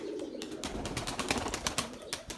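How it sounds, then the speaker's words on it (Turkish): A flock of white pigeons flies overhead, with faint wing flaps and soft coos over a low outdoor background. "Hem sizin böyle kulaklarınızın pası gitsin böyle bir görün toplu halde kuşları, uçan kuşları."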